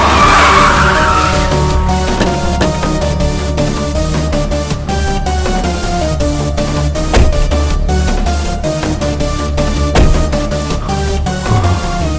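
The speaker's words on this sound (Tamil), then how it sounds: "வரதன் சார், வண்டி எடுங்க" Car in a crime action movie scene driving off with tires skidding, a loud sustained squeal over a roaring engine for about twelve seconds, close and continuous.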